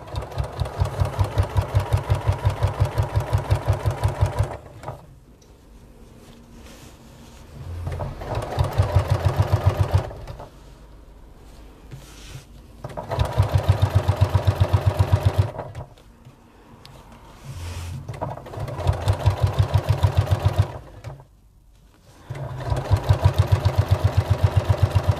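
A sewing machine stitches a tote bag seam, running in steady bursts of several seconds with quieter pauses between them, close and clear, with no talking.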